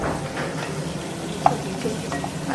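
Tomatoes frying in oil for pudina chutney, a steady close sizzle with soft stirring scrapes and a couple of small pops.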